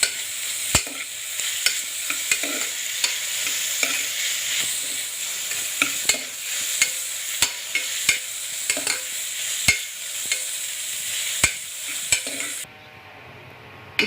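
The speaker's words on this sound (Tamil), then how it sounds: "இப்போ ஆனியன் நல்லா மிக்ஸ் ஆகி வதங்கிடுச்சு" Onions frying in coconut oil for a Kilakarai-style mutton gravy, sizzling steadily while a spoon scrapes and stirs the pan in regular sharp knocks, close and alone, until the sizzle drops away near the end.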